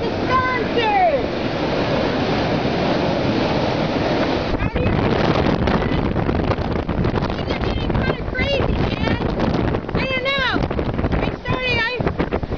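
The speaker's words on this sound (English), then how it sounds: "As you can see, the waves are getting bigger all the time." Big ocean waves driven by Hurricane Sandy crash and surge at Provincetown, a loud continuous roar of surf mixed with heavy wind buffeting the microphone.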